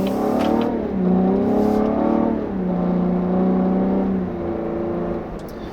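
A 2016 Cadillac CT6 with a 3.0-litre twin-turbo engine drives hard, its exhaust rising and falling through loud, sustained revving pulls with a brief easing between them.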